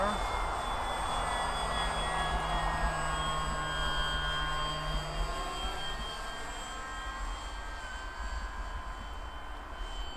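An FMS PA18 Super Cub RC plane's electric motor drones steadily in flight, a constant whine with shifting tones holding at an even level throughout.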